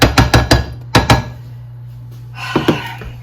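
A chopper tool breaks up frozen vegetables in a pan for turkey fajitas, giving a quick cluster of sharp knocking taps, then two more, a pause, and a final fainter pair over a low steady hum.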